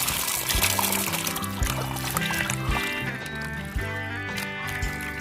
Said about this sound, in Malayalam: വെള്ളം ഒഴിച്ചൊന്ന് കഴുകിയെടുക്കാം നന്നായിട്ട്.